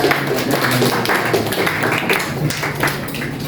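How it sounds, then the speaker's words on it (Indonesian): A classroom group gets a short burst of applause, scattered hand claps patting along at moderate volume for a few seconds, without speech. "Kita berikan tepuk tangan dulu untuk kelompoknya."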